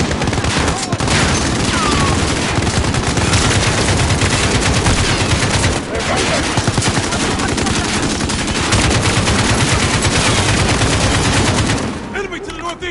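Dense, loud video game gunfire with rapid automatic bursts and rattling volleys running almost continuously, easing off briefly near the end, with voices talking underneath.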